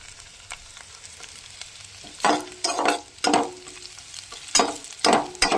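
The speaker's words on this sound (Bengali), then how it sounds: "আলুগুলো আমি ভেজে নিই, আপনারা দেখতে থাকুন।" Potatoes fry in hot oil with tempering spices, a low background sizzle broken by several sharp, loud bursts of stirring and spattering in the second half.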